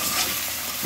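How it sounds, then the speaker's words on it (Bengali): Onion and potato fry in a pan with white cumin seeds, giving a steady close sizzle with faint stirring scrapes and no talking. "পেঁয়াজ আলুটাকে ভাজছি, তারপর লাস্টে আমি ক্যাপসিকামটাকে একটু ভেজে নিচ্ছি হালকা করে"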